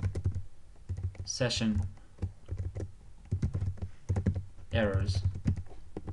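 Computer keyboard keys clack steadily as PHP and Laravel Blade template code is typed, with close, quick clicks in uneven bursts. Someone speaks briefly over the typing.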